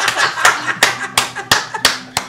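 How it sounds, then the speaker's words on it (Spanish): Several sharp, separate hand claps ring out in an uneven rhythm, close and fairly loud, with light laughter and voices around them. "Aplausos"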